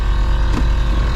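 Loud car exhaust from a modified car fitted with underglow, a steady low engine rumble filling the whole moment without a break.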